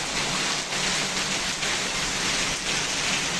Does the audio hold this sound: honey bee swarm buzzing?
no